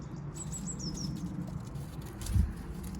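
Birds chirp outdoors in a short series of thin, high tweets early on, faint and somewhat distant over a low background rumble, with a soft thump near the end.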